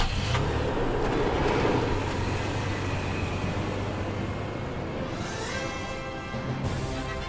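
A Toyota 4Runner on the road, its steady engine and tire rumble holding a constant level throughout with a faint higher whine rising near the end.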